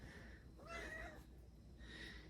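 A pet cat meows indoors, two distinct drawn-out meows with a pause between them, close and moderately loud over a steady low room hum.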